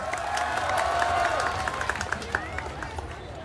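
A crowd claps and cheers at moderate volume, with busy murmuring voices and a loudspeaker voice carrying over the noise throughout.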